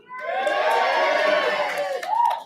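An energetic seminar audience claps and shouts together at the host's urging, a dense sustained roar of cheering voices and applause that holds steady throughout, with a brief rising whoop near the end.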